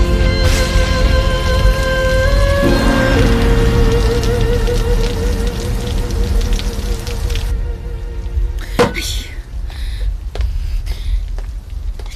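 Heavy rain pours outside in a steady, dense hiss that holds throughout, with sustained musical tones over it in the first half and a few sharper drips or knocks near the end.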